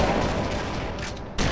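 Shotgun gunfire in Kane and Lynch 2: Dog Days, a loud blast at the start followed by a rumbling, decaying tail, then a second sharp blast near the end, with no talk.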